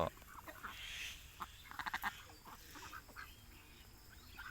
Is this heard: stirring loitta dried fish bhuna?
no